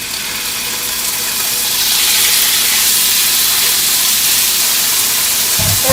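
Pork loin sizzles in hot olive oil in a pan over medium-high heat, a steady, bright hiss that swells a little louder after the first couple of seconds and continues unbroken, with no talking.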